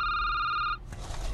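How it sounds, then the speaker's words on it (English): A telephone bell rings steadily and loudly for under a second and then stops, leaving a low background rumble. "Do I have to pick up this phone, Jerry?"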